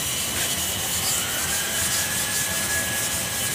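Coarse grit-36 and grit-20 sandpaper rubbed by hand over car body filler, a steady continuous scratchy hiss with no breaks, close and fairly loud, with no voices.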